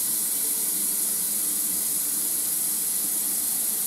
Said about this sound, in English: then I fill my sink